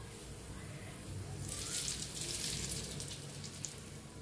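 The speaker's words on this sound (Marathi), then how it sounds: "फोडणी ओतूया ह्याच्यावर।" Hot spiced oil tempering poured over a quick onion pickle, a soft sizzle and crackle that rises partway through and holds steady, fairly faint and close.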